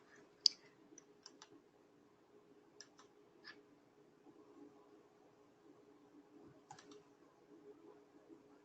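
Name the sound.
computer keyboard clicking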